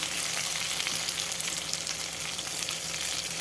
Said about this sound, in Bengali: এইভাবে উল্টে পাল্টে ভেজে নেব আলুগুলো।